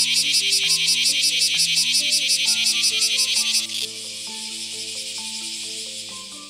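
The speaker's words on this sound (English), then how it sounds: "Each species has its own song, which helps cicadas attract mates and warn off rivals." Cicadas sing in a loud, rapidly pulsing high buzz that settles into a steadier drone after a few seconds, with soft musical tones running underneath.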